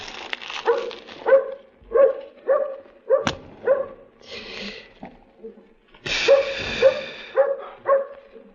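A dog barks repeatedly in short bursts, fairly close, with brief pauses between volleys and a sharp knock partway through.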